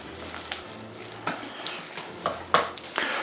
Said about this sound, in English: We're gonna mix that with a whisk.